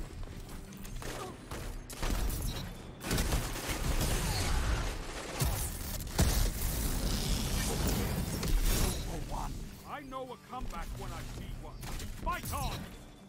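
Pulse rifle fire in a video game, heard as rapid, dense bursts of shots and impacts that continue almost without pause, with someone talking over them throughout.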